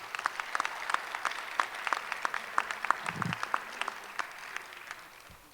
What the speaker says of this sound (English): One more round of applause for our students